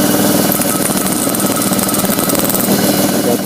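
A power drill bores rivet holes through a wooden knife handle, giving a loud, continuous whining drone that holds steady throughout with no talking.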